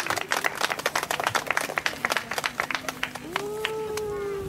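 Applause from an outdoor festival audience after a picture-story show and music collaboration in Okinawa, steady clapping through most of the clip that fades as a sustained tone and a speaking voice rise near the end.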